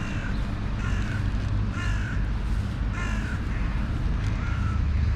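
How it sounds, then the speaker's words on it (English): Several crows caw in repeated bursts over steady, loud city background rumble, with pigeons and other birds around at lunchtime. "Here's some crows coming down."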